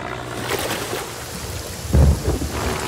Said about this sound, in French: Oh non! Une tempête!